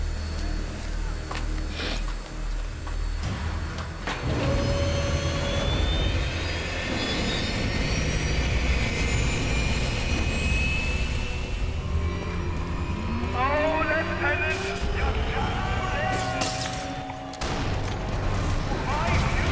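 Engine drone of a plane escaping in the video game Sniper Elite 4, a loud sustained roar with rising and falling whines, layered with game effects and someone talking over it.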